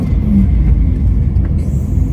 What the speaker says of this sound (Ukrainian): Машина проїжджає швидко, тому ми проїжджаємо.